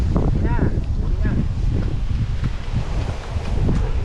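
Strong wind buffets the microphone steadily at a rural fishing spot, a constant loud rumbling roar with faint rustling throughout and no clear talk.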